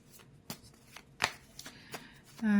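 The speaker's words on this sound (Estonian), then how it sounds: "Aga praegu ma segasin kaardid ära ja hakkangi võtma." A deck of playing cards is shuffled by hand at close range, with soft riffling flicks and taps in a loose rhythm. The clip ends on a brief louder riffle.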